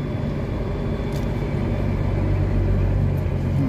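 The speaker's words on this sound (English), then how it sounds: "Stuck in a little bit of traffic now." Steady low engine drone and road rumble inside a car crawling through traffic on the drive to Ensenada, a constant dull hum with no talking.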